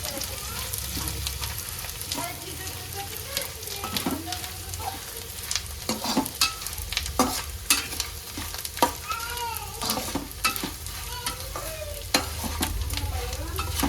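Edible gum frying in ghee, crackling and sizzling steadily in a pan as it puffs up, with stirring scrapes and irregular pops throughout, close and moderately loud.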